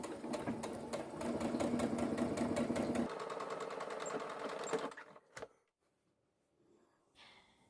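Sewing machine stitching fabric for a hair scrunchie, a rapid, steady mechanical needle chatter for about five seconds, then it stops, leaving a brief clunk and near silence.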